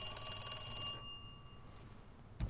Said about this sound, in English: someone's calling my phone number